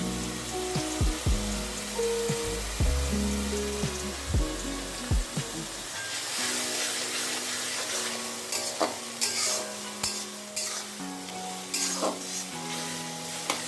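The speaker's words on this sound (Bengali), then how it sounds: "পেঁয়াজটা আর একটু গলে যাক ভাজা ভাজা হোক" Onions sizzle and fry in a pan with salt and lemon juice for a Bengali chital fish curry, a steady crackling hiss broken by sharp scraping stirs, with a low tonal hum through the first half.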